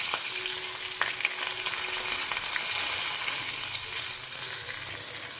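Spices such as sambar powder and turmeric fry in hot oil in a pan, giving a steady close sizzle with a few small pops and faint stirring scrapes, no voices.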